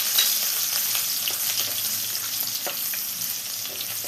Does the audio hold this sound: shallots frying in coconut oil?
yes